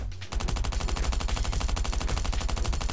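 Rapid automatic gunfire in a mobile shooting game played on an iPad: a loud, steady stream of evenly spaced shots, about a dozen per second, that starts abruptly and continues without a pause.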